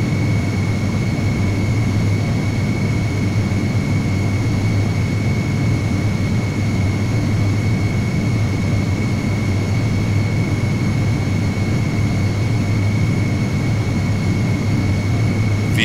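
Boeing 727-200 jet engines roaring steadily through a takeoff roll in the FSX flight simulator, with a constant loud low rumble and a sustained high whine, no speech.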